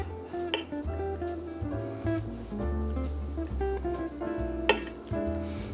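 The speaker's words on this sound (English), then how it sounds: "I'm using 2 spoons. I'm going to slowly mix my pesto into my pasta." Two spoons stirring kale pistachio pesto into pasta, soft wet squelching and sticky mixing with light clinks of metal on the bowl, close and steady.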